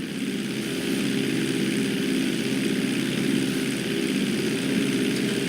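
Airplane engine during a flight school takeoff in the video game GTA V, a loud steady propeller drone that rises slightly after the first second and holds evenly, with no voices.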